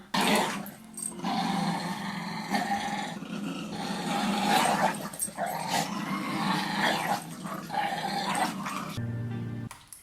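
A dog growls almost without pause for about nine seconds, a close, rough, rumbling snarl that rises and falls with a few sharper yips mixed in.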